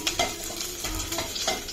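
Mustard-oil tempering sizzles hard in a pan for a Malvani mackerel (bangda) curry, a steady close crackle with small spatter bursts, no voices.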